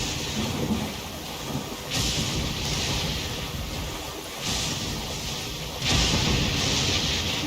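Rain and thunder in the video game Genshin Impact: steady heavy rainfall with rolling thunder swelling in a few surges, loud and enveloping, no voices.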